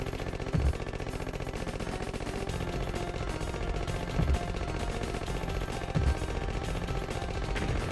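Rapid sustained gunfire in a video game with dense, evenly spaced shots, punctuated by three heavier, booming sniper rifle reports at intervals over a loud continuous background.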